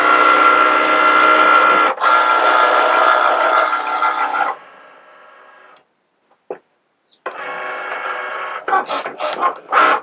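A Cricut smart cutting machine etching a slate coaster, giving a loud, steady mechanical whirr that drops away partway through, followed by a quiet gap and then a shorter whirr with a few clicks.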